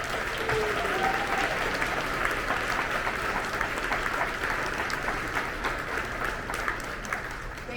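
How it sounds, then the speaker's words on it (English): Steady applause from a crowd, many hands clapping continuously at moderate volume throughout, without letting up. "let's give these people a round of applause"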